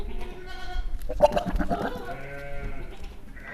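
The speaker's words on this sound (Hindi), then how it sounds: "ये प्योर क्वालिटी में पतीरा बकरा है।" A Patira breed goat bleats up close with several wavering, drawn-out cries, loud and harmonic, over a faint background of farmyard noise.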